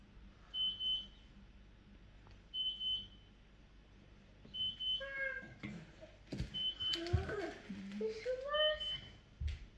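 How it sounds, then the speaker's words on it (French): An oven timer beeps in short repeated triplets at a steady spacing, fairly faint in a home kitchen while pizza bakes, with people talking and moving nearby later on. "Le four il sonne."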